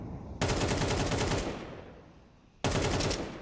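Rapid automatic gunfire in Counter-Strike, sprayed through wooden boards: a long loud burst that tails off, then after a short gap a second sharp burst starts up, close and dominant.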